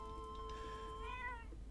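Cats meowing on a ranch in the Zelda: Echoes of Wisdom video game, a short run of rising and falling game meows over steady background music, with no talk.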